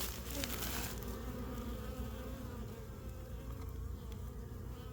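Honeybees buzz in a dense, steady drone at a beehive entrance in spring, the hum close and continuous throughout with no voices.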